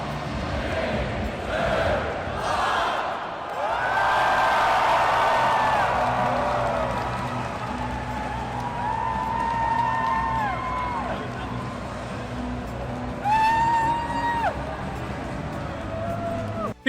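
A large convention crowd at PAX Australia fills a big hall with loud, sustained voices, chanting and rising cheers and whoops, the roar swelling and falling over several seconds.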